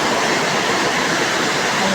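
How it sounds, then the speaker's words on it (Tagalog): Heavy rain and rushing floodwater in the Philippines, a loud, continuous broadband roar with no breaks, close and dense throughout. "Ang lakas ng tagos ng ulan at lakas ng baha"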